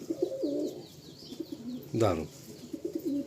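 A pair of golden-eyed pigeons, male and female, coo close by in a low rolling burst, with a brief spoken exclamation nearby.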